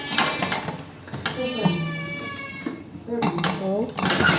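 A metal pressure cooker holding village chicken curry is set down on a home stove with clanks and rattles of metal cookware. Someone talks nearby throughout.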